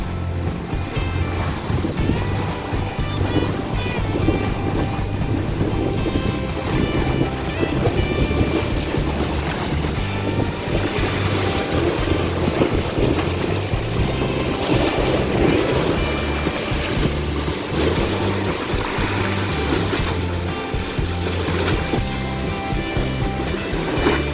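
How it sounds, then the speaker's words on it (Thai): Strong sea waves roll in at Lan Pho park on Naklua beach in Pattaya, a loud, continuous surf roar with heavy wind buffeting the microphone throughout. "คลื่นอย่างแรง"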